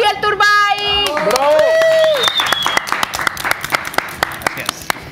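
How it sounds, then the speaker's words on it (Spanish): Studio audience on a Colombian television talk show applauding, dense clapping rising after a host's speech-like voice at the start, continuing with sharp individual claps toward the end. "reciban con un fuerte aplauso para empezar esta semana del lunes al gran Juan Gabriel Turbay."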